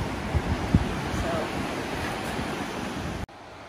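Steady broadband rush of the Deschutes River flowing at a bend, close and continuous, with a couple of brief knocks early on before it cuts off abruptly near the end.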